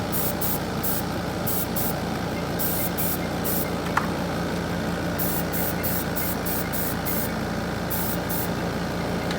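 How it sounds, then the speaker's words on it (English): Airbrush hissing out a light mist coat of paint, a steady close spray with short repeated bursts over a constant compressor-like drone, no talk. "Just a light mist coat on it."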